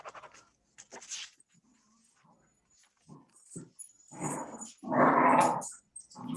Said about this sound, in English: Dumb dogs.